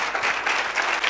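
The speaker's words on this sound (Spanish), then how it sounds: "Dale un aplauso al Señor" A church congregation breaks into loud, dense applause, many hands clapping together in a steady, close wash with no pauses.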